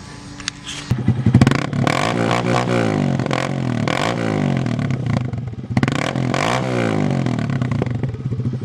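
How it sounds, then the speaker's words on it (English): A loud motorcycle exhaust with the baffle removed revs repeatedly, rising and falling in pitch with a raw, crackling roar, close by. "the perk of taking that baffle out is that your exhaust is now stupid loud"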